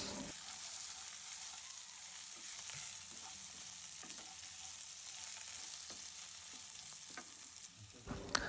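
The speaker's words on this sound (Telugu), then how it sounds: "వెంటనే మీరు ఉడకబెట్టుకున్న మునక్కాయలను అయితే మనం వేసేసి ఫ్రై చేసుకుందాము." Boiled drumsticks and onions fry in a pan for an Andhra-style drumstick fry, giving a steady, close sizzle with occasional stirring scrapes throughout.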